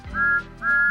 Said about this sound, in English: Thomas always whistles peep peep in return.